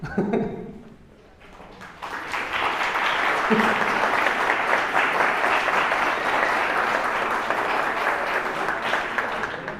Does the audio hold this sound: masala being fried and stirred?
no